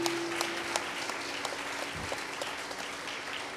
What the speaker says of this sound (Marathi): भागवत पखवाजवाले आमचे यांच्यासाठी एकदा टाळ्या